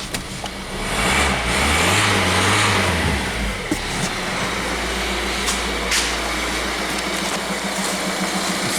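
Peugeot 3008 engine starting and running after fuel priming, a brief rise in revs near the start, then a steady close idle hum continuing without talk.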